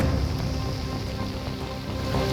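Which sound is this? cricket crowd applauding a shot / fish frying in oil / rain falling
rain falling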